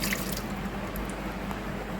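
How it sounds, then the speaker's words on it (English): A small amount of water poured into a cooking pot for cassava leaves stew, a faint, soft trickle and patter of liquid lasting a couple of seconds. "You add in a little bit of water"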